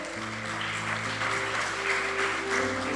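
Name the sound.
congregation applause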